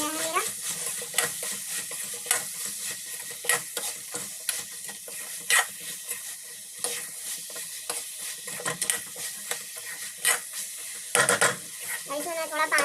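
Peas sizzle and fry in a pan while a spoon stirs and scrapes them in steady, repeated strokes, close and continuous, with faint background voices.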